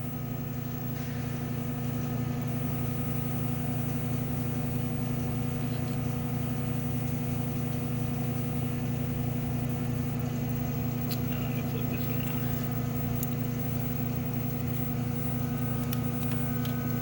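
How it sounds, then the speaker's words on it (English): The vacuum on an ABM mask aligner runs as a steady, loud mechanical hum with a strong low tone that stays constant throughout, joined by faint clicks near the end. "go ahead and turn the vacuum on"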